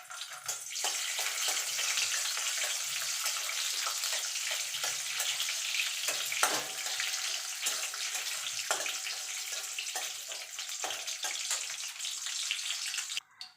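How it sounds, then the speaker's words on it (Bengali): Cashews and raisins fry in hot white oil with a continuous loud, close sizzle that is broken by a few crackles and stirring clicks and ends abruptly. Nobody speaks. "কাজু কিশমিশটা ভেজে তুলে নেব।"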